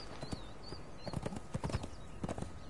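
Horse hooves clip-clop in the Conan Exiles video game, a brisk run of close, clear hoofbeats in an uneven trotting rhythm over a quiet game backdrop.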